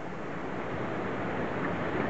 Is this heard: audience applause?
no